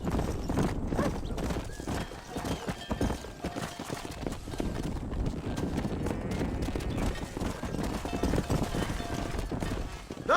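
Horses clip-clop and whinny as they are herded into a pen in Red Dead Redemption, with steady close hoofbeats and snorting forming a dense, continuous ranch scene.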